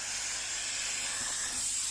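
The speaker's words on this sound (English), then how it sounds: "so you can see the steam that's coming out of this thing" Steam hisses continuously from a Dirt Devil Easy Steam Express II DDSTM1500 steam cleaner after a repair. The jet is steady and bright, close to the listener, with no voices.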